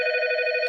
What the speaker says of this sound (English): That's your rotary phone going on.